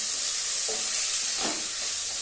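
Sambar powder stirred into onions and tomatoes in a hot pan, giving a steady sizzling hiss with a few soft scrapes of the spoon.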